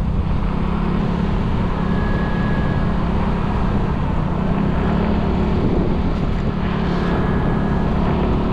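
A motorbike rides down a road on Palawan, its engine a steady droning rumble mixed with heavy wind buffeting the microphone, continuous and loud throughout with no talking.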